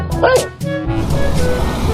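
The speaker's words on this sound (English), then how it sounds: "Dog." A dog in a 3D animal video game gives a quick pair of yappy barks up close, followed by a busy game soundtrack and background noise.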